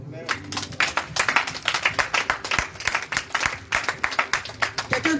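A church congregation claps in a fast, lively rhythm to acclaim the Lord, dense sharp handclaps continuing steadily with voices mixed in.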